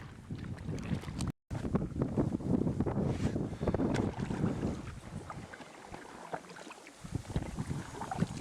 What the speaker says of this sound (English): I'm going to do some paddling.